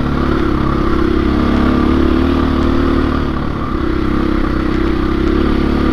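A 2021 KTM 500 EXC-F dirt bike engine drones steadily and loudly while riding, a constant close mid-pitched roar with a slight dip partway through, and no talking over it.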